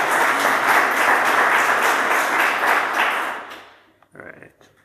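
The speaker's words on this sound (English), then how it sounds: "Give him a big applause." A crowd at a software conference's lightning talks applauds steadily and loudly for about three seconds, then the clapping fades out, followed by a brief shuffle of quieter noise.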